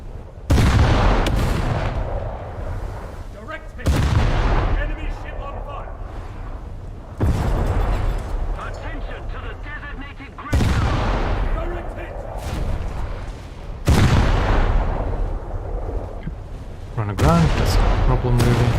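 Heavy naval guns boom again and again in a naval video game as enemy ships are engaged, arriving as loud, evenly spaced volleys roughly every three seconds with rumbling tails, alongside game radio voices.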